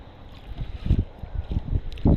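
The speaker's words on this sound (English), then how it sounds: "nobody wants to battle this type of wind and the whole time they're out kayaking" Gusty wind on a small lake buffets the microphone during kayak bass fishing, with repeated low rumbling gusts that swell and fade across the clip and a stronger blast at the end.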